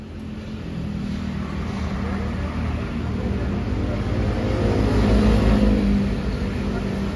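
A bus idles and rumbles at a bus station, a steady low engine drone with ambient station noise that swells a little toward the end; no talk is heard.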